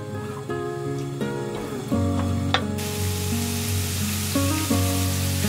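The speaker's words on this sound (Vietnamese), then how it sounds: "Cho tỏi băm vào phi với lửa nhỏ vừa nha." Minced garlic frying in a tablespoon of oil in a pan over medium-low heat gives a steady, hissing sizzle that carries on throughout, under soft background music.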